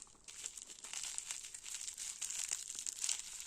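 A plastic sachet from a cross-stitch kit is handled and pulled open, producing a steady close crinkling and crackling of thin plastic with no talking.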